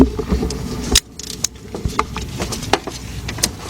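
A 3/8 drive ratchet turns a bolt on the motor mount bracket of a 2007-2017 Lexus LS460 during a starter replacement, giving sharp, irregular metallic clicks and taps up close.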